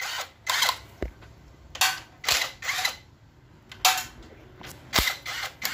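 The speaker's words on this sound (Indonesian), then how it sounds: "Baut 10-nya dibuka dulu." Ratchet bursts and sharp mechanical clicks as 10 mm bolts are loosened from the automatic transmission oil filter cover of a Suzuki Grand Vitara, close and intermittent, with short whirring runs separated by gaps.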